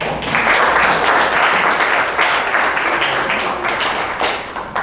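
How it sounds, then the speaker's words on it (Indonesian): Sustained applause from a group of students in a school classroom, dense clapping that stays loud and near throughout, tapering slightly at the end. "Kita beri aplaus sama-sama"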